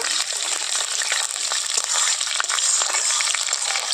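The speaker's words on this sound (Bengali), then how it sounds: "তেলের মধ্যে দিয়ে দেব তেজপাতা গোটা জিরে কাঁচা চেরা লঙ্কা ভালো করে একটু ভেজে নেব" Bay leaf, whole cumin and slit green chilies sizzle in mustard oil, a steady bright hiss and crackle of frying that stays even and close throughout with no talking.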